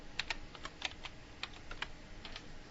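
Light, quick keystrokes tap on a computer keyboard while text goes into an Excel spreadsheet cell, a dozen or so soft, close clicks in an uneven typing rhythm over a faint hiss.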